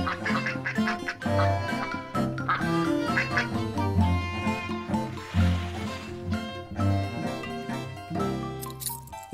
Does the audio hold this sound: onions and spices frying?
no